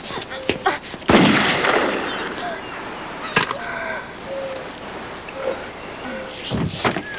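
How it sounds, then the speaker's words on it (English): A gunshot in the 1993 film The Cover Girl Murders: one sharp, loud bang that decays quickly, followed later by a few quieter percussive thuds against a faint background. "he shot Vanessa Angel"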